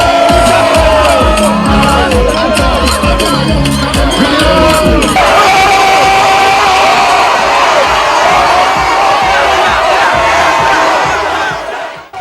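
A large crowd roars and cheers at President Mahama's campaign rally in Sekondi Zongo, loud and continuous with shouts and whoops rising over a dense, steady wall of voices.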